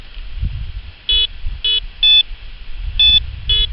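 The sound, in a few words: metal detector signal tone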